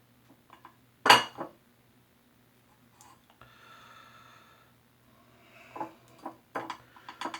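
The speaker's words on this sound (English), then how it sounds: "Let me scoop some some of the soap" Taylor of Old Bond Street Royal Forest shaving cream is scooped from its tub with a few sharp scrapes, clicks and taps against the container, close and sparse amid near silence.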